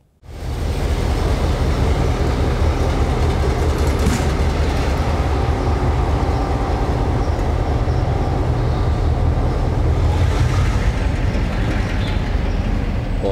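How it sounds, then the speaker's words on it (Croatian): A train rumbles steadily at the railway station in Banja Luka, a loud, continuous low roar with a faint rhythmic clatter throughout and no voices. "Ovako izgleda željeznička stanica u Banja Luci."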